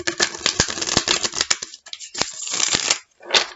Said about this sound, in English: I will do one final shuffle.